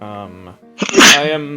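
A single loud, sharp sneeze bursts out between stretches of close conversational speech at a tabletop role-playing game session.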